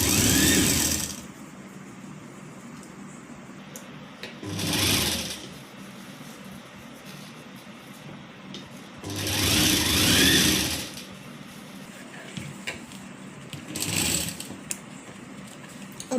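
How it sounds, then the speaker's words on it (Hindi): A sewing machine runs a cover stitch along a kurti sleeve edged with attached piping, part of a small child's Rajputi outfit, in about four separate bursts of steady whirring stitching with quiet pauses between. "इस पे हम कवर सिलाई लगाएंगे इस तरीके से"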